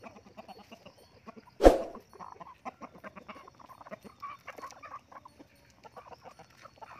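Native country chickens at a home farm cluck softly and repeatedly, with one louder sharp squawk near the start, all fairly faint and close.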